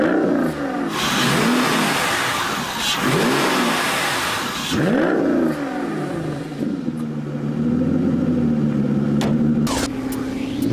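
Hand-built 5.9-liter V12 of an Aston Martin Vanquish revs repeatedly, loud swelling blips rising and falling several times before settling into a steady, droning engine note with a few sharp clicks.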